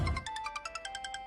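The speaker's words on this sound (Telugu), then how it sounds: "అయినా ఈ టైంలో మాయకెందుకు ఫోన్ చేసినట్టు?" A phone rings with an incoming call: a bright electronic melody of quick repeated tone pulses, clear and close, after a brief low thump at the start.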